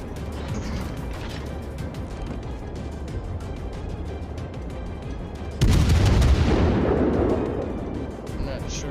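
A heavy naval gun blast from a World of Warships cruiser rings out once midway, a loud low boom that decays into a rumbling tail over steady ambient sea and engine noise.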